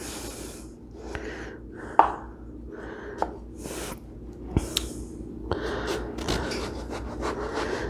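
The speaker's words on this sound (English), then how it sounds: "try to keep your knife as straight as possible so you get a nice consistency with the slice" A knife cuts eggplant into thin quarter-inch slices, giving a series of soft crisp chops and scraping strokes on a cutting board at close range, with no speech.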